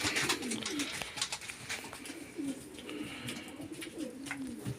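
Pigeons coo repeatedly in soft, rolling phrases against a busy outdoor background with other bird chatter.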